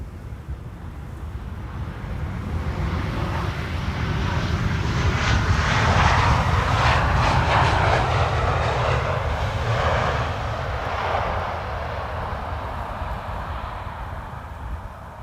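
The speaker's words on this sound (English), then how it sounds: "BizJet flying over Amsterdam to runway 22" A Bombardier Global 600 business jet flies over Amsterdam toward Schiphol runway 22, its engine roar swelling as it passes overhead and then slowly fading, with wind buffeting the microphone.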